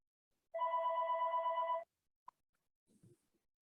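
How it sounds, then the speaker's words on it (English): A noisy phone rings nearby with one steady electronic tone burst of just over a second, then a short click and faint handling noises as it is silenced. "Very noisy phone I have now."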